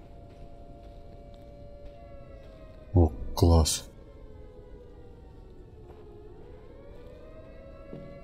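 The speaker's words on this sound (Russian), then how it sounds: "Что это? Пожарная сирена?" A fire siren in the video game Those Who Remain wails as a steady, distant tone through the whole stretch, while someone briefly speaks over it.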